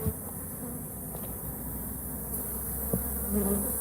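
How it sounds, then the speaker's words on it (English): Dense, steady buzzing of tens of thousands of bees inside a hive, a low continuous hum with faint scattered clicks, no voices. "Thousands and thousands of bees in here."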